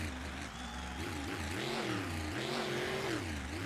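A monster truck engine roars and revs in rising and falling surges as it launches onto a freestyle track at an arena event, loud but heard from some distance.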